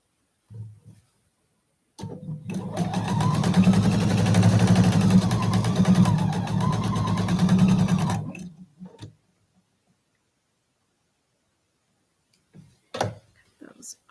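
A sewing machine stitches quilt block pieces together in one steady, close whirring run of about six seconds, followed by quiet handling sounds.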